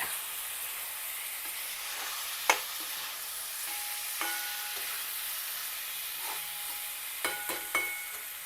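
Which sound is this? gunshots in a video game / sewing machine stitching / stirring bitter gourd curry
stirring bitter gourd curry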